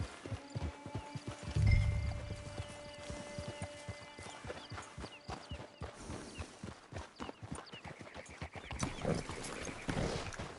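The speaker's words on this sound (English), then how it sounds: "It's your horse." Horse in the video game Red Dead Online, with steady clopping hooves walking close by and a loud whinny early on, then continued rhythmic hoofbeats at moderate level.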